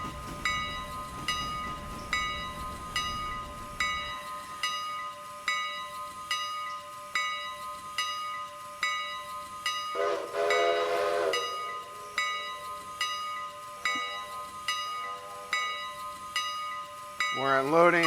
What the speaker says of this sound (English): I could hear your horn and your bell.